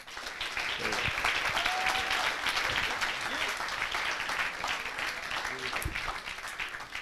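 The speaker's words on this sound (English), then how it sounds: "And now again, big round of applause for Nicolas if he's around." Audience applause for a speaker at a talk event, dense steady clapping sustained for about seven seconds at close range, with a few brief voices and cheers mixed in.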